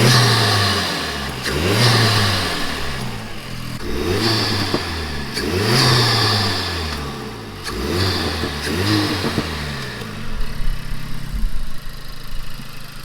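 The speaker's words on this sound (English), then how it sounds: "let's start the car and get a few pre-send whooshes" Car engine fitted with a K-tec air intake, repeatedly revved after starting, each rev rising and falling in sweeping surges over a steady idle, close and loud, with intake whoosh and no talking.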